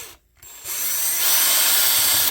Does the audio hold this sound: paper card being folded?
no